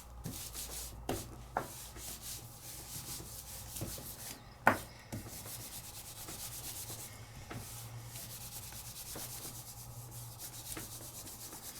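A hand rubbing a Gelli Arts transfer sheet down onto paper, producing a soft, continuous scratchy rub at close range, broken by a few sharp taps.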